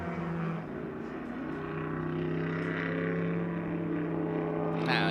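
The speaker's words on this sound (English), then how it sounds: "The Ferrari just pulls away under the grunt." A Ferrari race car pulls away on a track at a live car event, its engine giving a steady, droning roar that swells slightly toward the end, heard from trackside.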